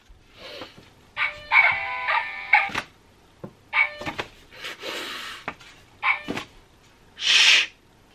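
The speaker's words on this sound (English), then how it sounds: "My card is barking at me." A musical greeting card plays a looping electronic tune with repeated synthetic dog barks, several short bark bursts over a tinny melody, close and fairly loud, ending with a longer burst.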